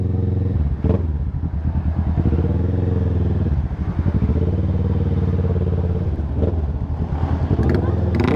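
Motorcycle engines at an outdoor motor show in a sports complex rumble steadily and loudly, with a few revving swells, while people talk nearby.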